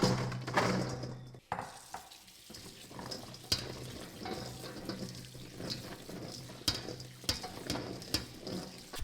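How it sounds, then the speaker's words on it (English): Elephant garlic cloves washed in water in a sink, with running water from the tap, splashing, and sharp clinks and knocks of cloves and dishes at irregular intervals, close up. "I'm actually going to wash all of these cloves first"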